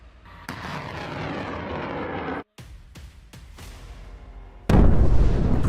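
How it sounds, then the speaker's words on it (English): A HIMARS rocket launcher fires a missile, giving a loud sustained roaring rush that cuts out briefly, resumes with sharp cracks, then surges into a heavy, louder blast toward the end. "HIMARS operators move in a position and the missile is launched."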